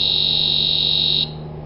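A BW GasAlert Micro gas detector's alarm sounds as a loud, steady high-pitched electronic tone during reset, cutting off abruptly after about a second, leaving low hum.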